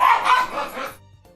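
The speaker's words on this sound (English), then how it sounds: "in the world are those dogs doing? Coming in here." Several dogs barking and yipping in quick bursts, fairly loud and close, with the barks fading out after about a second.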